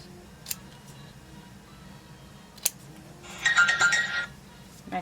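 A mobile phone ringtone plays once, a short bright burst of chiming tones rising out of a quiet room, preceded by a few faint clicks and taps.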